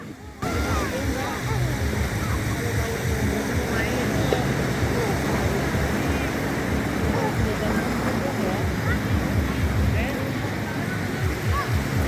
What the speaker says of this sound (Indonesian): karena memang ombaknya di sini besar